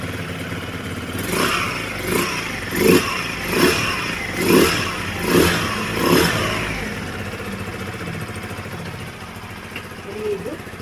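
A 186cc motorcycle engine revs repeatedly in a steady series of throttle blips, each rising and falling, then settles back to a rough idle close by.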